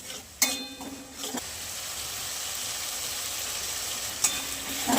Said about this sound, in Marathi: हे ना आपण मस्त ह्याच्यात कांद्यात हलवून घेणार आहे